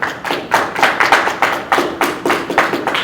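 Slow, loud, evenly spaced claps or thumps, roughly three per second, close and dry, with no voices.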